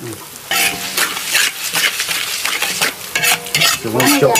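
A home-cooked dish is stir-fried in a wok, with loud, close sizzling and bursts of scraping as a spatula tosses the food in uneven strokes.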